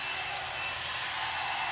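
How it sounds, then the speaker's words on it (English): A handheld blow dryer drying hair gives a constant, loud airy whoosh close by, with no pauses or change in pitch across the short stretch. "And then I just take this blow dryer"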